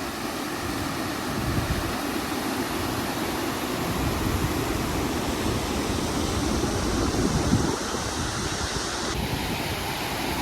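Rushing water roars continuously at Mandohol Dam near the start of the Ruichonda waterfall, a dense, steady wash of noise close by with no voices.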